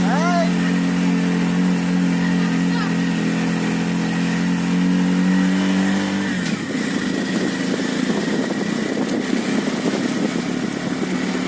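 A CNG auto-rickshaw engine runs continuously while riding, a loud steady motor drone that shifts in pitch partway through, with road noise and a voice talking over it.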